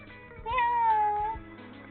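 A single drawn-out cartoon cat meow, clear and close, rising then slowly falling, with faint background sounds around it.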